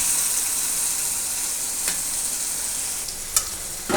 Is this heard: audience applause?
no